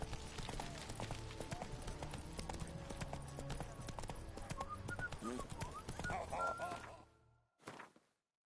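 Hoofbeats of Geralt's horse Roach galloping steadily in The Witcher 3, a dense rhythmic clip-clop with game sounds layered over it, ending abruptly before a brief final burst.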